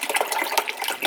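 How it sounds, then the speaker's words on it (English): Bottled water pours into the reservoir of a Keurig coffee maker, a steady splashing, trickling flow close by that continues throughout, with no talk. "I'm just filling up my Keurig."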